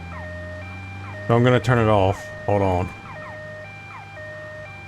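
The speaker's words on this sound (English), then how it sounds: "That is the ambulance sounds." A two-tone ambulance siren from the video game Grand Theft Auto: Vice City wails in steady alternating steps, partly under a man's brief speech, then keeps cycling on its own.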